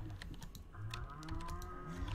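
Cows mooing inside a barn in the Stardew Valley farming video game, a low, quiet call that comes and goes amid soft clicking and ticking game sounds, with no talking.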